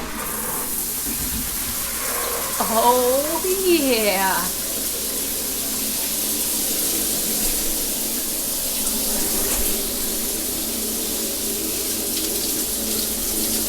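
Warm water streams steadily from a tap on a tiny houseboat as a broad, constant hiss, with a brief spoken exclamation and a short rising-and-falling voice early on.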